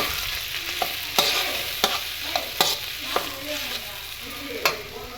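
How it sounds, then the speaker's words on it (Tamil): A single tomato sautés with ground onion in a pan for egg salna: a constant crackling sizzle punctuated by sharp, regular clacks of a spoon stirring against the pan. "இப்போ தக்காளி நல்லா வதங்கிடுச்சு"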